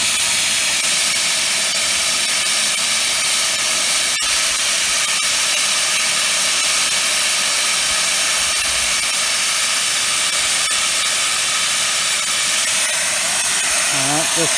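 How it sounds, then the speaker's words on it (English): Loud, continuous hissing of steam escaping from the blow-off valve of a rocket-stove steam boiler, a steady roar that holds for the full stretch before a faint wavering tone emerges near the end. "I can see steam coming out of it."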